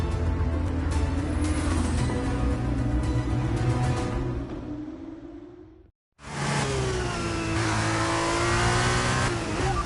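An F1 race car in a racing video game pulls away on brand new tyres, its engine screaming as it climbs through the gears. The sound cuts out briefly, then returns loud and high-revving with no talk.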